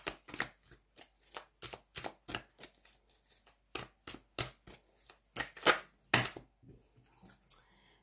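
Cards from a tarot deck are handled and drawn, giving a rapid series of crisp, close papery flicks and snaps in an irregular rhythm, with no voices.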